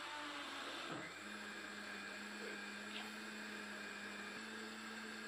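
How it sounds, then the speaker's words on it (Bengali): A blender runs steadily at full speed, blending dragon fruit with about half a litre of water into juice, a constant loud motor whine with a steady hum throughout and no talk. "তো আমি জুসটা এখন ভালো করে ব্লেন্ডার করে নিব।"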